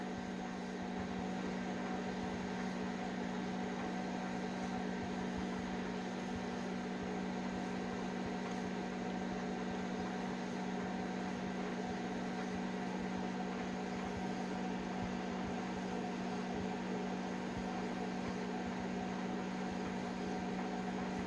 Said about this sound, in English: what happens when you put a fork in a microwave